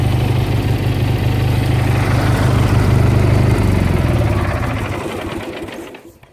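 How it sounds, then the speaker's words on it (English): An engine fitted with a newly welded aftermarket exhaust muffler on a GT runs with a steady, loud, buzzing drone close up, then winds down and fades out near the end. "So yeah, that's that new exhaust there."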